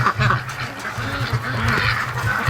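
Young ducklings quack repeatedly outdoors as they leave their shelter, a busy overlapping chorus of short calls at close range.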